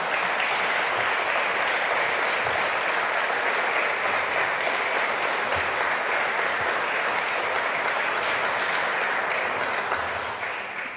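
An audience applauds at a speech with dense, sustained clapping that stays loud and even throughout and fades only slightly at the very end.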